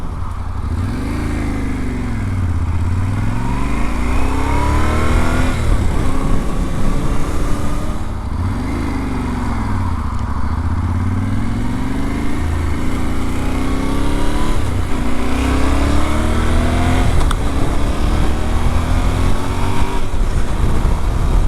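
A Yamaha T7 motorcycle is ridden on the road, its engine droning loudly and continuously with repeated swells as it accelerates and shifts, mixed with steady wind noise.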